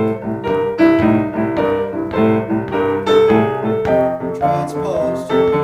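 Solo piano plays a boogie woogie riff in the style of a classic boogie woogie piece, built on a ninth-chord shape, with a rolling, driving left-hand rhythm and repeated right-hand chords, loud and close.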